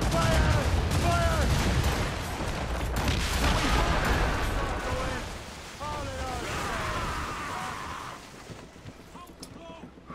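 A ship's broadside cannons in Assassin's Creed Rogue fire a rumbling, overlapping barrage, while someone talks excitedly over the booms.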